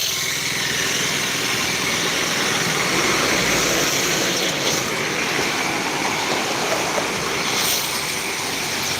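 Rushing water of the Sutlej river at the Ropar headworks, a steady broadband roar that holds level and unbroken throughout, with no voices over it.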